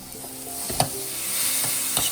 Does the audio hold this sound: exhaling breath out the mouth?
no